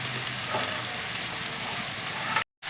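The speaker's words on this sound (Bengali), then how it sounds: "চিংড়ি মাছটা একটু ভেজে নেব।" Prawns fry with a little salt in a pan, giving a steady, close hiss of sizzling oil throughout, broken by a brief silent gap just before the end.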